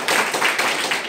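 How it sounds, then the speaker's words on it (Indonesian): A room full of people applauds a young hospital staff team during an accreditation survey meeting, with a short burst of dense, steady clapping at moderate loudness. "tepuk tangan dulu"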